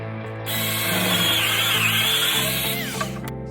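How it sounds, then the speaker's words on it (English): A power drill whirs loudly for about three seconds, its motor pitch steady as it bores into pallet wood, then winding down with a click. "So I'm drilling a hole here."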